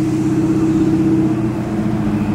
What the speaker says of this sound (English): But his car's loud, bro.